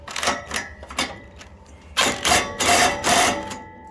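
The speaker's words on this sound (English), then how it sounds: "I can use the socket to tighten the back nut without actually taking the front nut off" A socket ratchet clicks while a nut is tightened on a riding mower's cutting deck, close and loud, with bursts of rapid ratcheting strokes broken by short gaps.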